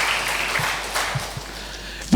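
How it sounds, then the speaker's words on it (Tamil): An audience claps at a business speech event, a soft, fairly even patter of applause from a distance with a few low knocks and a thump at the end. "நீங்களே கைத்தட்டிக்கணும் ஒரு தடவை."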